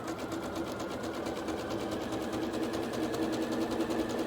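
A sewing machine fitted with a satin stitch foot runs continuously along a quilt seam, giving a steady, fast mechanical whir with an even rapid pulse, close and constant, with no talking.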